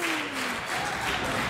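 A crowd at an independent pro wrestling show claps and cheers in a steady, fairly loud wash, with a brief tonal sweep near the start and no clear speech.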